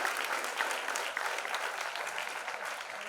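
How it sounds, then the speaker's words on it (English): Audience applause at a student event launch, a dense steady clapping from a crowd that holds without pause throughout, fairly close and full. "this calls for a round of applause"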